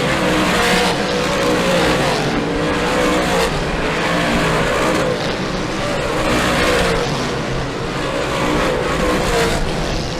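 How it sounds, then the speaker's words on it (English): Race cars roaring around the oval at Humberstone Speedway during a late-race lap, a loud, continuous engine drone with surges as cars pass close by, running steadily throughout with no break. "Williamson slowly starting to pull away now from the 71 of Mike Bowman"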